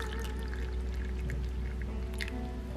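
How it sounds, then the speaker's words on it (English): Hot water pours into a cup of dried jasmine buds, a soft, steady trickle heard close up under faint background hum. "And then pour hot water into the cup."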